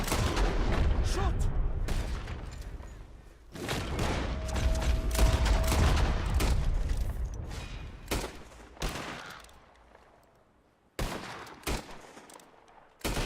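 Rapid gunshots ring out in Red Dead Redemption 2 during a bird-shooting contest, with dense bursts of overlapping shots close and loud, broken by brief pauses, while a voice talks over the action.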